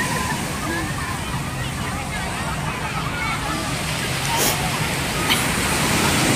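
Strong sea waves slosh and surge continuously at Repulse Bay beach in Hong Kong, a broad steady wash of surf close by, with voices of people talking over it.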